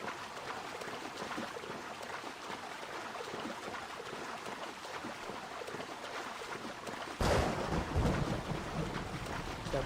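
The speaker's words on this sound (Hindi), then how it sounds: "क्या बिजली कड़क रही है भाई?" Thunder rolls through a stormy scene in the video game Assassin's Creed Odyssey, a low rumbling wash under wind and rain that swells into a louder crack near the end.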